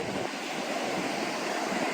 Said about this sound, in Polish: Nie mam pojęcia, czy to będzie słychać, bo są duże fale.